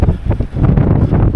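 Strong gusting wind buffets the microphone outdoors in Scotland near Castle Stalker, a loud low rumble rising and falling for the whole short stretch.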